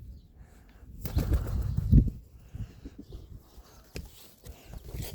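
Fancy pigeons beat their wings in a loft, giving soft, close flurries of flapping with a few sharp rustles and knocks between quieter moments.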